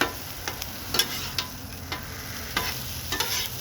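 Mushroom and tomato sauce cooks down on an outdoor griddle at night, a constant close sizzle punctuated by several sharp scrapes and stirring clicks spread out unevenly, with no talking.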